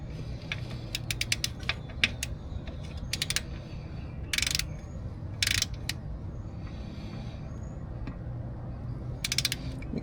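A torque wrench ratcheting and clicking while an oil drain plug is tightened on a 2001 Yamaha Grizzly 600 4x4 ATV: bursts of quick mechanical ratchet clicks, with a few louder sharp clicks in between, close and clear over a low background hum.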